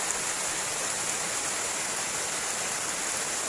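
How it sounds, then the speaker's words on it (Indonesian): Heavy rain pours steadily as a dense, continuous hiss, heard from shelter in a field hut at a fishing spot, with no voices. "Cukup deras hujannya."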